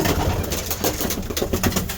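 Racing pigeons coo nearby in a loft, soft throaty calls repeating over a constant rustling bed of bird noise, with no one talking.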